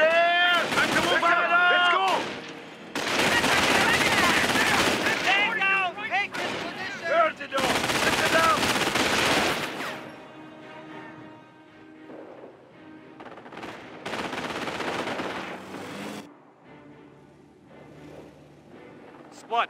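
In a Company of Heroes: Tales of Valor battle at the Falaise Pocket, heavy machine gun fire rattles in two long, loud bursts, with shouted soldier voices before and between them and quieter distant combat afterward.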